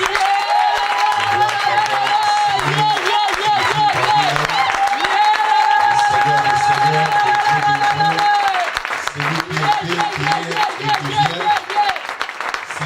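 Church congregation at a seminar applauding and acclaiming loudly throughout, with sustained crowd noise, a continuous sung or shouted tone over rhythmic low thumps, and voices mixed in the din.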